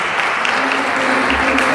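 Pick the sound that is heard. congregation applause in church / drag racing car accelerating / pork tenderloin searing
congregation applause in church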